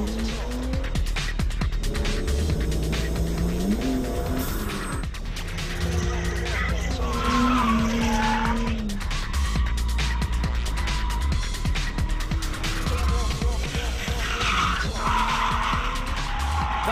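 A 2005 drift car's rear tyres squeal and skid through repeated slides, with a loud engine revving underneath, continuous and close for the whole stretch.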